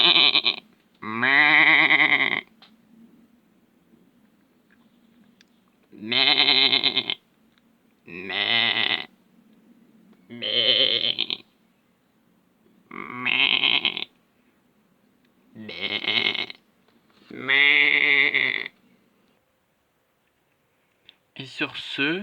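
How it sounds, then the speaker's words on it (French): Goat bleats in repeated bursts, about nine loud nasal cries spaced by short pauses, close and clear with a low hum between calls. "la chèvre"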